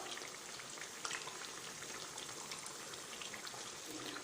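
Banana, potato and onion bajji deep-frying in hot oil, a soft, dense bubbling crackle that runs evenly throughout at low volume.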